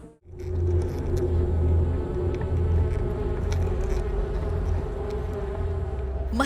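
Dense swarm of honeybees buzzing around a wild bee nest, a loud, steady droning hum with no pause and no speech.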